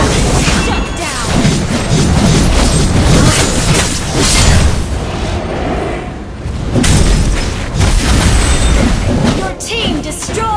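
Turret being destroyed in a video game: a loud, dense crash and explosion that stays forceful throughout and masks other sounds.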